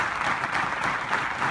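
An audience at an entrepreneurship talk in Chandigarh claps for itself, a dense, even wash of many hands filling the room without pause for a brief moment.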